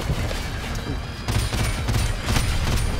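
Dense gunfire from Call of Duty 4: Modern Warfare Remastered, a sustained fusillade of overlapping shots and bursts at steady high loudness, with battle noise throughout.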